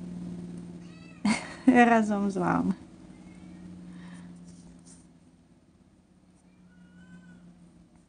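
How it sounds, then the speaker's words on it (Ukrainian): A cat shut behind a closed door meows loudly in a burst of several drawn-out, insistent cries, then falls quiet while a person talks softly nearby over a steady low hum. "Знову в мене на фоні кіт бунтує. Закрили двері, а він ще не вміє відчиняти."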